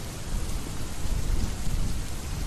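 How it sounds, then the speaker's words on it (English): Wind and heavy rain in the video game The Crypt Terror, a dense, steady hiss of downpour with a low rumbling undertone, sustained and fairly loud with no voices. "The sound of the wind and the rain."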